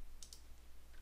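Computer keyboard spacebar pressed twice in quick succession, sharp light clicks close by during Civil 3D software work, then a faint tap near the end against a quiet room hum.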